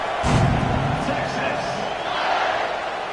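A large stadium crowd at a South Carolina college football game roars around a kickoff, a loud broad wash of cheering that swells early and stays high, with an announcer talking over it.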